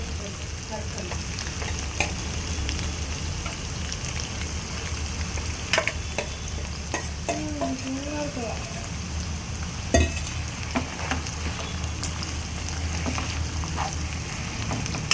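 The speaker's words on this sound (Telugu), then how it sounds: "మనం ఇప్పుడు దీంట్లోకి వేసేసుకొని తాలింపు పెట్టేసుకుంటాం" Ground gongura chutney being tempered in a hot pan, a continuous loud frying crackle and sizzle throughout with occasional sharp utensil knocks against the pan, no talking.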